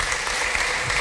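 A church congregation clapping, a brief, steady wash of many hands applauding at moderate loudness, with no clear voices over it.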